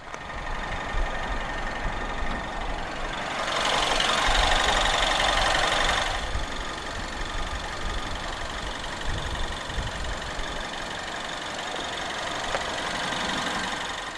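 A BMW 316i's N13 1.6-litre turbocharged petrol engine idles steadily with a smooth, even hum and faint hiss, a brief brighter wash of noise rising over it midway, no voices.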